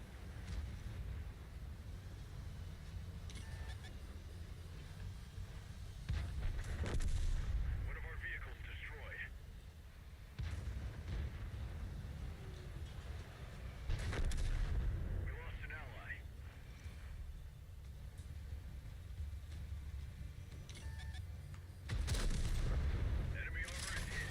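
Tank cannon fire in a tank video game, several booming shots at intervals under game noise, with voices talking over it.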